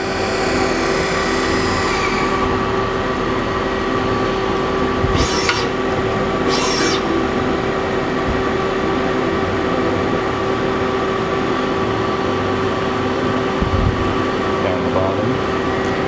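A Citizen M-16III Swiss-type CNC lathe runs its spindle at speed, a steady loud machine drone with a constant tonal whine, joined by brief higher whirring bursts as it ramps up.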